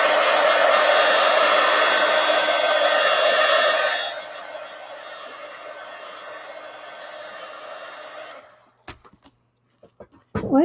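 A hair dryer blows steadily on a small art card, a loud continuous whir that drops to a lower setting partway through, then cuts off, followed by a few soft handling taps.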